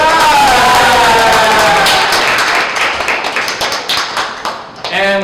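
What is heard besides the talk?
audience applause and cheering for the champion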